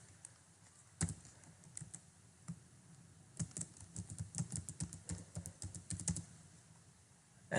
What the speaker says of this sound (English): we log out and enter the new password